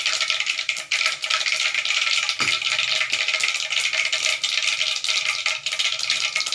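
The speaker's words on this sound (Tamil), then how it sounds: "கடுகு பொரிஞ்சிச்சு" Mustard and cumin seeds crackle and spit steadily in hot oil in a pan while a brinjal kurma is cooked, a dense, close sizzling hiss with no talk.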